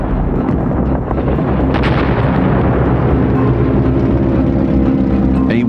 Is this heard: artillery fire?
yes